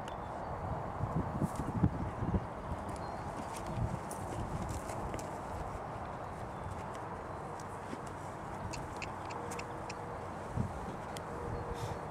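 A barefoot Rocky Mountain horse gelding walks, its unshod hooves giving soft, irregular clip-clops over a constant low outdoor rumble, fairly faint and close.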